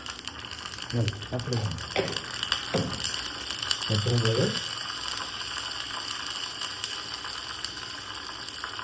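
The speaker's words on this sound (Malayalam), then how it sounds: "എണ്ണ ചൂടായി, കടുക് ഇടാം." Mustard seeds splutter in hot oil for a pineapple pachadi tempering, a dense, close run of crackling pops with a person briefly talking over the start.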